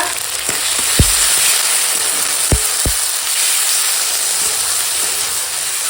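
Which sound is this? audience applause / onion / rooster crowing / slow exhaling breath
onion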